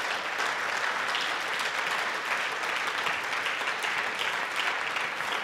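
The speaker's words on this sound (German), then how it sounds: "es ist euer Applaus" Sustained applause from the audience at a Green party state convention in Saxony, a dense, even roar of many hands clapping with no speech over it, steady and moderately loud throughout.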